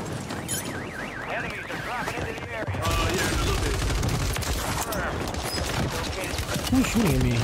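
Rapid bursts of gunfire rattle through a Warzone 3 battle royale match, dense and close, with a voice talking over the shooting.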